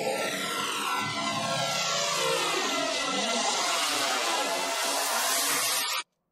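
A designed whoosh made from a metal tray and a voice, placed in reverb: a continuous airy roar with descending swept tones resembling a jet flyby, holding steady alone for six seconds then stopping abruptly.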